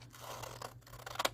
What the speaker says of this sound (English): we're going to cut out the template, and you're not going to cut inside here, you're just going to cut around the edge